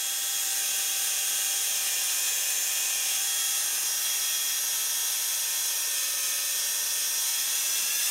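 A Dremel rotary tool at its lowest speed polishing an H&K USP 45 ACP pistol, a steady, loud whining hum with a high, even tone that holds unbroken throughout, with no talking.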